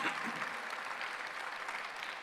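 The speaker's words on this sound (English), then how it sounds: "Let's just give that another applause." Audience applause at a commemorative event, a steady, faint patter of many hands clapping at a distance with no voices over it.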